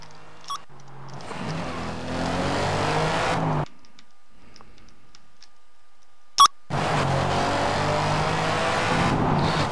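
Racing cars roar steadily in a Grand Prix racing video game with a Scirocco among the field, cutting to a brief quiet stretch with a thin tone and a sharp beep before the loud engine drone returns.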